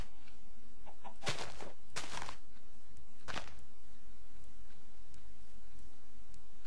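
Chicken clucking in a multiplayer video game, a few short bursts of clucks standing out against a steady background bed of game ambience with faint ticking.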